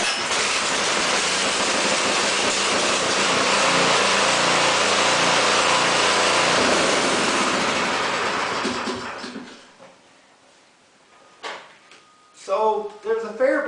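A small pull-start engine, primed, choked and pulled, roars loudly and steadily up close for about nine seconds, then cuts out, leaving quiet clicks and a brief voice near the end.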